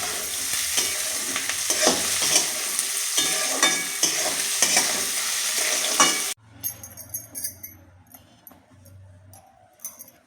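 Chopped tomatoes, a few cashews and green chilies fry in a pan for a paneer curry, with a busy sizzle and repeated spoon scrapes close by. Partway through, the sound cuts to a quieter stretch of scattered clinks and stirring.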